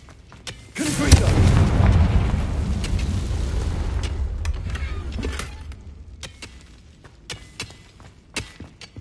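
A Confringo explosion spell in Hogwarts Legacy detonates with a loud, close boom, followed by a long rumbling decay and a scatter of sharp clicks afterward.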